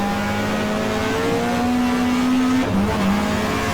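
A 1994 GTR2 race car at Mallala circuit, Australian Manufacturers Championship, roars loud and close as its engine climbs in pitch, then briefly dips and rises again on the shift into third gear, with no voices.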